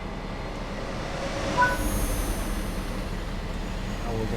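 A DB BR 218 diesel locomotive idles in the Train Sim World 4 game, giving off a steady broadband rumble and hiss with a faint high squeal near the middle, close and continuous without speech.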